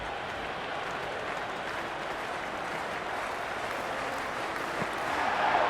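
A stadium crowd in Cricket 26 keeps up a steady, distant wash of applause and cheering, evenly sustained and swelling slightly louder toward the end.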